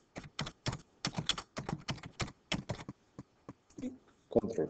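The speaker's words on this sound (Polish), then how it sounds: "Wpisuję adres i klikam wyślij." Rapid typing on a computer keyboard while composing an email, with clusters of sharp close key clicks in bursts and short pauses, a few softer clicks near the end.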